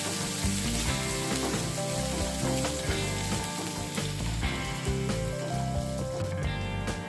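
Finely chopped ginger and garlic fry in hot oil in a pan, a dense, continuous crackling sizzle heard up close, with occasional stirring scrapes and no talking.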